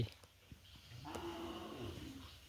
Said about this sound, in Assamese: সেই তাতে আম্বাই কৈ চিঞৰি আছে গৰু